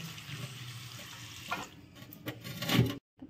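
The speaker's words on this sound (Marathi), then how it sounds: "आता आपण मेथीच्या भाजीची तयारी करू. चला इथं भाजी धुते मी." Fenugreek leaves are washed in water in a large wok, giving soft sloshing and splashing with a few louder swishes near the end before a brief silence.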